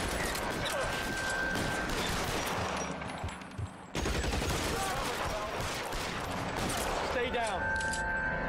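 Rapid bursts of gunfire fill a shootout in the L.A. Noire game, including Thompson submachine gun fire, with dense sustained volleys, a brief lull midway, then renewed shooting under game sound.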